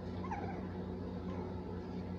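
A puppy whimpers softly in a few faint, thin high whines over a steady low background hum.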